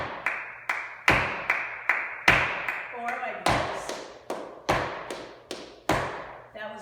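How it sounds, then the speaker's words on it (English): Flamenco palmas: sharp hand claps ring out alone in an uneven, lively pattern, about a dozen crisp strikes at close range, with a short spoken remark in the middle. "We clap a lot,"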